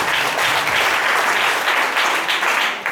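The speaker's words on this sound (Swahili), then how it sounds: "Pigia huyo mama makofi." A church congregation at a village service applauds a woman, producing dense, sustained clapping from many hands that stays loud and even for the whole stretch, with a faint voice or two underneath.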